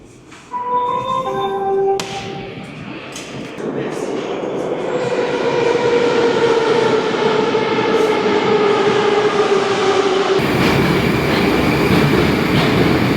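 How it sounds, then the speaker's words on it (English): A Moscow metro train in Russia rumbles loudly, opening with a rising series of electronic door chimes, then a sustained roar and high whine of wheels and motors as the carriage gathers speed, with a rushing shift near the end. "I've got to jump on the metro"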